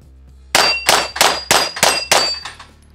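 Seven quick pistol shots from a full-size Walther PDP SD Pro firing Blazer 115-grain factory ammunition ring off a steel target as sharp metallic clangs, evenly spaced and loud, the last one fainter.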